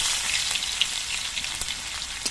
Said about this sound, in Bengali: জিরেটা লাল হয়ে ভাজা হয়ে যাওয়ার পর এর মধ্যে থেতো করা রসুনটা দিয়ে দিচ্ছি